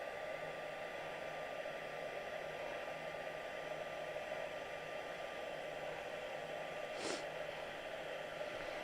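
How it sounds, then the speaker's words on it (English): An embossing heat tool blows hot air in a steady, close, continuous whoosh with a constant motor whine throughout, with no talking. "I know I'm covering it with the heat tool at the moment."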